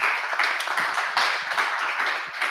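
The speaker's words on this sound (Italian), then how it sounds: "Un applauso a Guido." Scattered clapping from a meetup audience at a JavaScript talk, a brief, moderate patter of hands heard alone.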